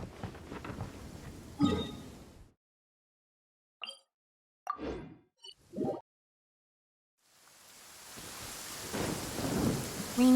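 Rain and thunder in the video game Genshin Impact: steady rainfall with deep rumbling thunder that drops out into near silence, broken by a few short thuds, before the rain and rumble swell back.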